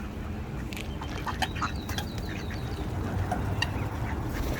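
Young birds call near a pond, a scatter of short chirps and quacks over steady outdoor background noise, moderately close and fairly faint.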